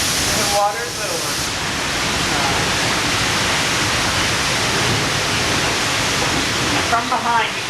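Loud, steady rushing water from the flash flood effect on the Disney-MGM Studios Backlot Tram Tour canyon, fed by large white pipes, roaring continuously throughout with brief splashy surges near the start and end.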